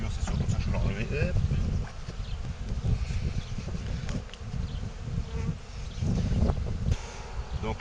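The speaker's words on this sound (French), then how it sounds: "il reste un peu d'abeilles dedans, on va les mettre devant, elles vont remonter toutes seules" Honey bees swarm around an open Dadant hive, a dense, close buzzing that never lets up, while a person talks intermittently over the hum.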